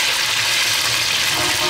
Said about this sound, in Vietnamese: nên giờ chiên vậy nha